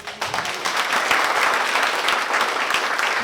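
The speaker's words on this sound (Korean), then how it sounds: "다시 한번 큰 박수 부탁드립니다." Audience applause at a Korean climbing seminar closing session swells quickly and holds as a full, steady clatter of many hands for several seconds, with no voices over it.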